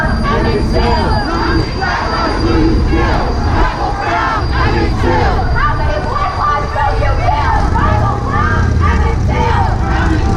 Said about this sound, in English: This is the Black Lives Matter protest in Newark, New Jersey.